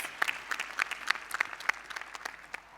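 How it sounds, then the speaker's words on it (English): An audience at a women's football convention claps, a moderate patter of individual claps with distinct sharp hits, fairly close and without speech. "Round of applause"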